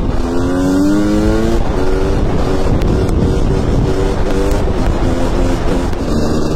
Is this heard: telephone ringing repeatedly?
no